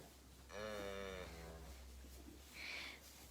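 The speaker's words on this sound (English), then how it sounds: "So you can hear the calves making a really" Calves on a farm let out two moos: a longer, wavering bawl near the start, then a shorter, higher call, both fairly distant over a low steady background hum.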